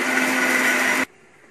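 A kitchen mixer grinder gives one short pulse on raw cucumber chutney with tamarind, tempering and salt, a loud whirring burst about a second long that cuts off abruptly into quiet room tone.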